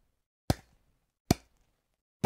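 Volleyball struck three times at a high school varsity match, each hit a sharp isolated smack with short decay, spaced roughly a second apart, loud and close in a quiet gym.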